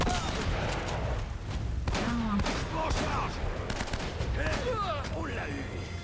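Gunfire rings out during a shootout in the Uncharted video game, with bursts of shots and impacts in a busy, dense mix and in-game voices and music running underneath.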